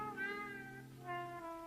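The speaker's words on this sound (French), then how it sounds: "Un chat noir?" A black cat meowing twice, two drawn-out, tonal calls close by with a short pause between them and no talk.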